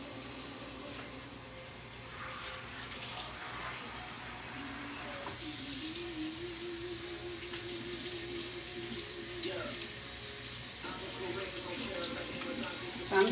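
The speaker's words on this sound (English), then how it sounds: "So I'm giving it like a once over, rinsing it." Water runs steadily from a faucet while a tie-dyed shirt is rinsed, a constant broadband splashing hiss with faint speech in the background.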